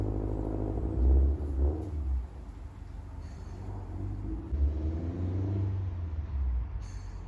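A neighbor's car revs hard from a cold start with no warm-up, a low rumbling engine note swelling in two strong bursts before settling, heard at a moderate distance with no talking.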